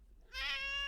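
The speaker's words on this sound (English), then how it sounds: "Let's see if I can get my cat to meow." A pet cat named Despy lets out a single clear, drawn-out meow close by, rising after a brief quiet start.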